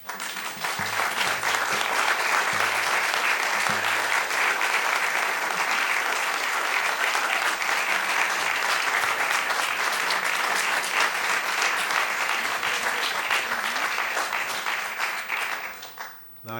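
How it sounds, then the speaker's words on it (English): Steady, dense applause from an audience at a public planning meeting, loud and unbroken for about sixteen seconds before tapering off abruptly at the end. "if you're going to continue to applaud"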